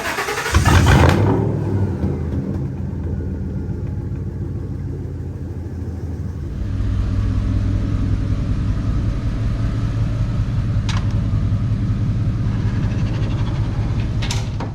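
A lifted truck's engine starts with a brief loud burst, then settles into a steady low idle rumble that keeps going as the truck backs out, with no talking over it.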